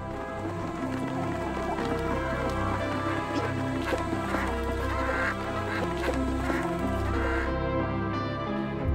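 Caged chickens in a crowded battery-cage poultry farm make a dense, continuous din of overlapping clucks and squawks alongside a steady mechanical hum.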